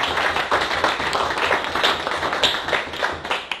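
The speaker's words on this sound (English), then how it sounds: "I think a big round of applause" A dense, steady patter of audience clapping fills the room at the close of a higher-education panel session, a continuous round of applause with no speech over it.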